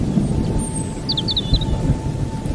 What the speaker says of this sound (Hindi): आज इतनी बिजलियां क्यों कड़क रहा है?